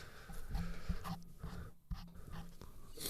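A dog pants nearby in quick, rhythmic breaths with a slight wheeze, fairly soft and steady against a quiet indoor background.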